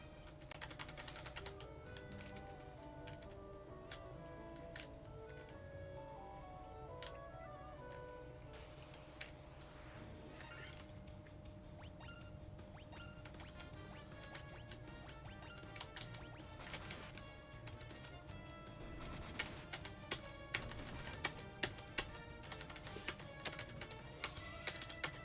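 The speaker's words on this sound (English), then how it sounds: "that sound on my keyboard of me tapping along" Steady tapping on a computer keyboard runs through the whole stretch, light clicks scattered over continuous background game music, with a few sharper, louder taps near the end.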